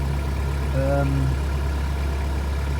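A boat's diesel engine running cool after its first start in five months, a steady low idling drone with a deep hum, close and constant while a person briefly speaks over it.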